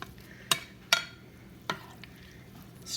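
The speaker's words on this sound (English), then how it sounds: "now I'm going to add all of this meat" Beef pieces going into a pot of keto beef stew with green beans and being stirred in: three distinct scraping clatters spaced apart over a low simmering background, close and without talk.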